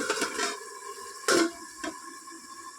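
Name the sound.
lid being placed on a pot of taro stem curry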